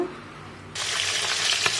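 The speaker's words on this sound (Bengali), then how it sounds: "এই মাছগুলো ভাজবো।" Oil bursts into a steady, bright sizzle partway through as catfish go into the pan, loud and close, after a quieter stretch of low background hum.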